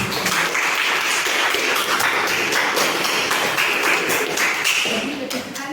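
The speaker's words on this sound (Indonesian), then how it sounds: "Beri tepuk tangan." A class of students applauds, with dense, steady clapping filling the room close by for several seconds before easing slightly at the end.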